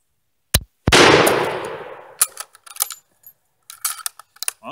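A French Berthier Mle 16 rifle fires a single sharp shot at an outdoor range. The loud crack trails off in a roughly one-second echo, followed by scattered light metallic clicks and handling noises.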